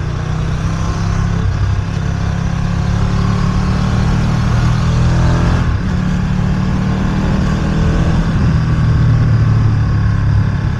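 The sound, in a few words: Ducati Streetfighter V2 motorcycle riding through traffic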